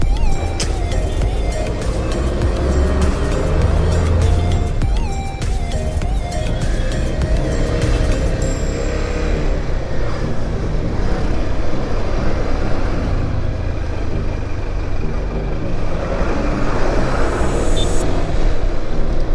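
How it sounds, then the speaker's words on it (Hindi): A car drives along a rough, bumpy highway on the road to Muktinath, its loud engine and tyre rumble steady and continuous throughout, with road noise and jolts running alone without talk. "इस पर गाड़ी जब ड्राइव करोगे तो ऐसे बम्पी आएगा"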